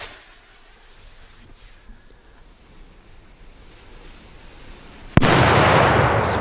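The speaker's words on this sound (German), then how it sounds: "Und es geht direkt weiter mit dem Danger. Tschechenböller." A Czech Danger firecracker goes off with one sudden loud bang near the end after quiet outdoor ambience, followed by a sustained roaring hiss of noise.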